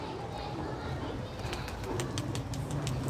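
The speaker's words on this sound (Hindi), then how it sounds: "ये है माशाल्लाह मिस्री दीन वाले जालदार कबूतर" Egyptian pigeons coo softly in a low, repeated murmur, with someone talking over them and faint rustling nearby.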